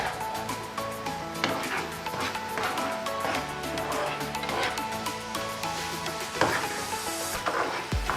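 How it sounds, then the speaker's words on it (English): Blended onion cooking in a pot for rice, a steady low sizzle with repeated stirring and scraping of a utensil against the pot throughout. "Now I'm going to throw in some blended onion, so I'm going to allow this cook for about 3 minutes"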